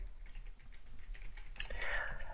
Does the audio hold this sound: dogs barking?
no